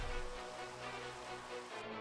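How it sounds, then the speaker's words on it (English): Steady rain falls in the block-building video game Minecraft, played with the All the Mods 3 modpack. It forms a soft, even hiss over faint tonal background music. "Oh, and it's raining."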